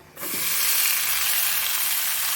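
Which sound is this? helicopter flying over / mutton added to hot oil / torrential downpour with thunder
mutton added to hot oil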